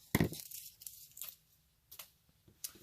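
Excess fabric being trimmed: a sharp cut or tear at the start followed by a few quieter snips and rustles, close and sparse against a quiet background.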